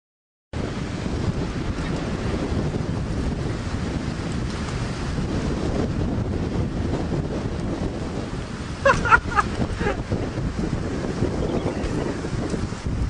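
Strong wind from a big windstorm buffets the microphone outdoors in a constant roaring rush, with a short louder gust or knock partway through.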